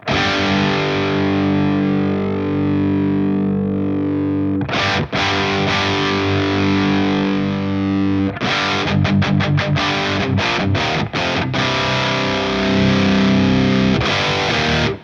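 Heavily overdriven electric guitar through a Friedman Small Box pedal, thick and saturated, first sustaining held chords, then chopping out a quick run of choppy staccato strums before ringing out again.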